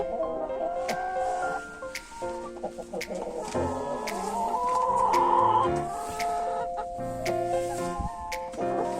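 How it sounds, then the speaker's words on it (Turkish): Backyard chickens cluck and chatter up close, with repeated calls, squawks and sharp interjections over a few seconds and no speech. "Dünyanın en ama en güzel tavuğudur"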